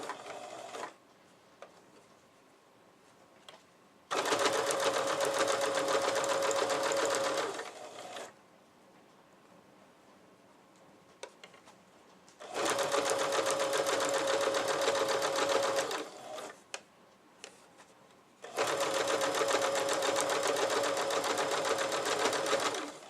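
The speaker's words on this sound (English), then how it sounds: "Move the sewing machine a little bit here." A sewing machine runs in three long, steady bursts of several seconds each, close and fairly loud, with quiet pauses in between and no talk.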